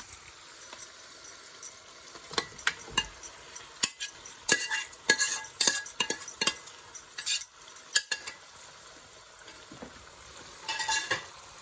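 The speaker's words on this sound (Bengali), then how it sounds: "এখন আমি মাংসগুলো দিয়ে দিচ্ছি।" Pieces of meat tipped into a pan of softened onion, with clinks of a utensil against the pan, stirring scrapes and a light sizzle, close and moderately loud in irregular bursts.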